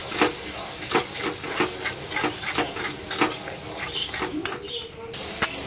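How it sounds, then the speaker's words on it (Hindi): Spoon stirring cashew curry gravy with red chili and coriander powder as it roasts in a pan, giving repeated scraping strokes over a soft, steady sizzle, with someone speaking over it. "जब तक ग्रेवी तेल ना छोड़ दे तब तक हम इसको अच्छे से पकाएंगे।"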